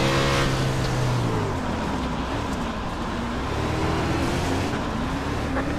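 World of Outlaws sprint car engines roaring at Williams Grove Speedway in iRacing, a loud, continuous pack drone with pitch rising and falling as the cars accelerate together after a restart.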